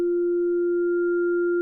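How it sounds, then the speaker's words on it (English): A steady, pure synthesizer tone close to a sine wave from Bitwig 2.0 holds at a constant pitch with a faint upper overtone, sounding alone and unbroken throughout. "With Pure, this is our starting point, a lot closer to a sine wave"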